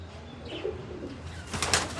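A pigeon coos softly nearby in a quiet setting, a low rolling call followed by a brief brighter rustle near the end, with no speech.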